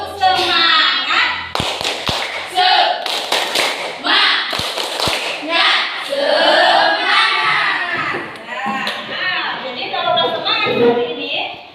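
A classroom of students does a rhythmic spirit clap, sharp claps landing in counted patterns between loud chanting and shouting voices, close and energetic throughout.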